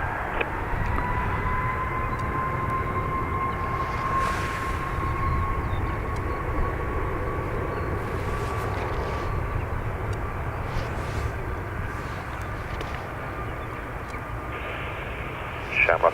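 An Airbus A321neo jet departs Dublin Airport, its engines giving a loud, steady roar with a sustained whine that holds for the whole stretch and swells slightly at the end.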